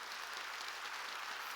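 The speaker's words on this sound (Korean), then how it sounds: "하나님께 박수 주세요." A church congregation applauds as the pastor is called up to preach: a faint, steady wash of many hands clapping at a distance, continuous and even, with no voices over it.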